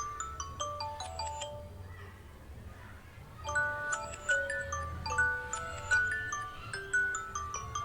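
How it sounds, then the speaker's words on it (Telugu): A mobile phone ringtone plays a bright, repeating melody of chime-like electronic notes, clear and fairly loud, with a soft low hum beneath and no talking. "సమాధానం మొబైల్ ఫోన్."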